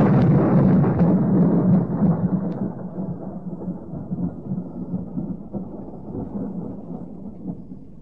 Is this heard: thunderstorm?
yes